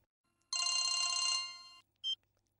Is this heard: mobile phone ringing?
yes